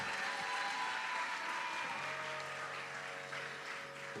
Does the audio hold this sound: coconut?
no